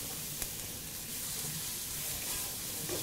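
Prawns sizzling with garlic in a wok on a Weber Spirit II E 310 gas barbecue, a dense continuous hiss close up with no pauses.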